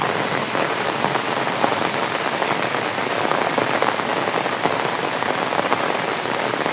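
Heavy rain pours steadily onto surfaces beside a rising river during flooding, a dense, loud, unbroken patter that fills the whole stretch without any voices.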